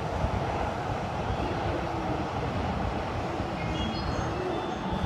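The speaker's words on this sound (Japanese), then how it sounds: "回送だね、東北本線走ってるんで。" An out-of-service Joban Line commuter train runs past on the Tohoku Main Line, heading for a rolling-stock depot. A steady, dense roar of wheels and motors holds at one level throughout, close by and loud.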